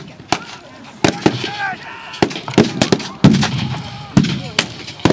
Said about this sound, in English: Is that dynamite I can hear banging in the distance?